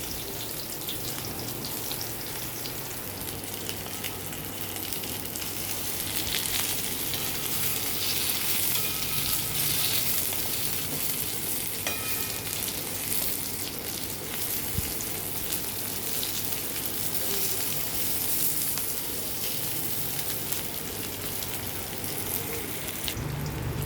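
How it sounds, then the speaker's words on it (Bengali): Stuffed bitter gourd (karela) frying in hot oil in a pan, a steady, close sizzle that runs throughout with faint stirring scrapes and no speech. "হালকা করে অল্প অল্প করে নেড়ে নেড়ে ভেজে নেব।"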